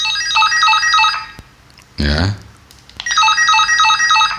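A Retevis walkie-talkie rings out its electronic call tune, a rapid repeating pattern of high beeping notes. A short spoken word breaks in midway, then the melody returns, loud and close.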